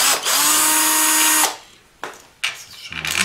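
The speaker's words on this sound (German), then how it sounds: "eine 8er Nuss vielmehr, und können die Schrauben lösen" Power drill with an 8 mm socket loosening screws on a Peugeot Speedfight 2 scooter, a loud steady whir for over a second followed by shorter clicks and brief bursts of the motor.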